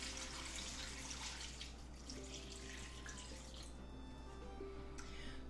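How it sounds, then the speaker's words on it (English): Water runs steadily from a tap into a pot of bones for bone broth, a continuous close splashing stream with faint drips and a low background hum, no talking. "I am going to add a little bit more water."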